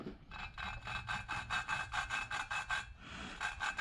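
Valve lapping on a small motor with coarse compound, a rhythmic gritty back-and-forth rubbing of about a dozen quick strokes, soft and close.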